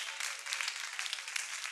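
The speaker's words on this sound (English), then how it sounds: "Give a hand clap to the Lord." A church congregation claps steadily, dense overlapping handclaps filling the space with no voices, sustained and fairly loud throughout.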